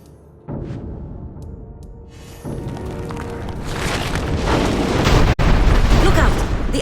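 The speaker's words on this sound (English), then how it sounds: "The Azonites have cannons sighted on us." Deep booming cannon blasts in Dungeon Siege III roll out one after another over a dense rumbling battle din, with a sharp crack near the end.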